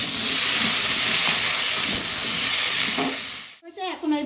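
Loud, steady sizzling of ground spice paste with cumin and green chilli hitting hot oil in a pan, a continuous frying hiss that cuts off abruptly near the end, followed by faint scraping.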